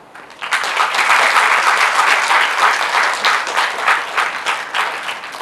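After a brief hush, a crowd breaks into loud, sustained applause that stays full and dense for several seconds, many hands clapping at once with no speech over it.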